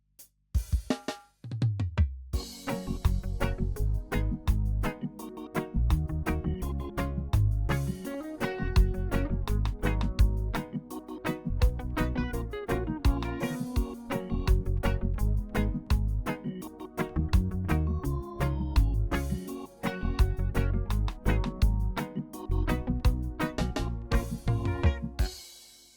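A clean, dry, unmixed reggae groove plays alone: steady drums and bass with offbeat chords, moderately quiet and unpolished, looping for the whole stretch.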